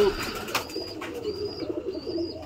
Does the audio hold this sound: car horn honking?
no